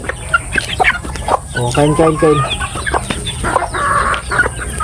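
Sweater breed chickens, including Sweater Boston and crossbred birds, cluck and call close by in a farm setting, with someone talking over the hens' noises.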